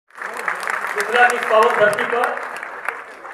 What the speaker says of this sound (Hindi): पूरा सभा तालियों की गड़गड़ाहट से गूंज उठा